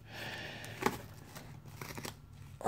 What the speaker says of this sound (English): We got our last box ready to cut open here.